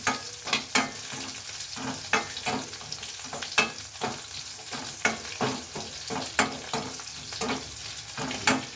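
Crushed garlic fries in a pan, with a steady sizzle punctuated by regular, sharp scraping stirs of a utensil, close and moderately loud with no talking.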